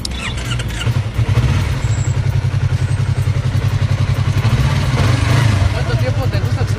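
A 2019 Yamaha YZF-R3 motorcycle engine cranks and runs with a steady, loud low rumble held throughout, with people talking over it.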